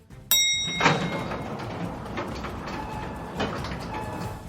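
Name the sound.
elevator doors sliding open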